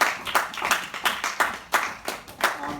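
A church congregation at a Sunday service claps together in a quick, steady rhythm of about eight beats, loud and close, with no talking over the applause.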